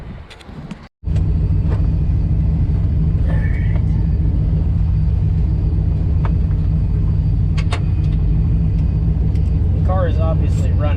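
A ten-year-old car with a leaking surge tank lid idles after a short break, its engine producing a steady, loud low rumble that continues throughout, with occasional faint clicks and voice-like sounds above it.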